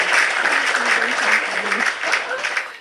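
Applause sound effect: a dense, steady burst of clapping from a crowd, loud and continuous for a few seconds before tapering off at the end.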